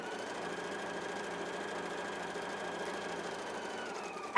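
A Husqvarna Viking EPIC 2 sewing machine runs an overlock stitch with a steady, quiet mechanical whir and faint rapid needle ticking, close up and alone, ending in a brief clack.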